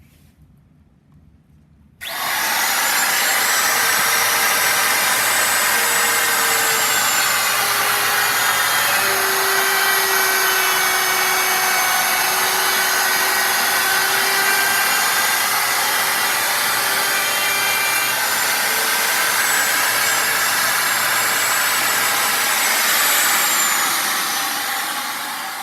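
A router with a cutter bit trims the end of a solid wood stair tread, starting abruptly after a brief quiet moment, then holding a loud, steady high-pitched whine with a shifting cutting tone for over twenty seconds before easing off.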